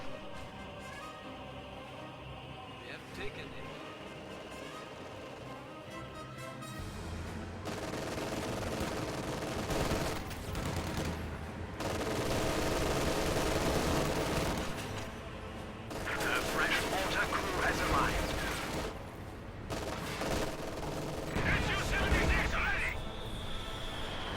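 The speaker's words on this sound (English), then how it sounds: "High explosive barrage coming in." High-explosive artillery barrage in the Company of Heroes 2 game, with repeated booming impacts and bursts of gunfire rising and falling over a dense battle din, loud in clustered waves.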